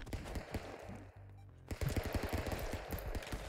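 Rapid gunfire bursts from the video game Stick Fight: The Game crackle in quick repeated volleys, with a brief lull partway through before a dense run of shots resumes.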